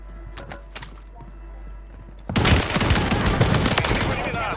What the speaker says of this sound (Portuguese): O tiro tá comendo em cima.